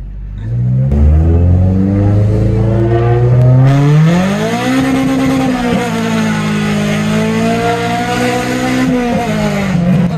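A Honda hatchback with a K24 engine revs and accelerates up close, loud rising engine tones climbing through the gears with a shift around midway and a sustained roar after.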